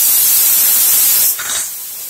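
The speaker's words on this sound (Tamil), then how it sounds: "அந்த புளித்தண்ணை விடுறேன்" Tamarind water poured into a pot for garlic rasam gives a steady, loud hissing splash that shifts and softens slightly partway through, with no talk.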